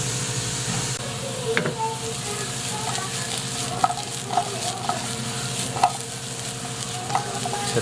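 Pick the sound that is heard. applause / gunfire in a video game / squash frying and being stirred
squash frying and being stirred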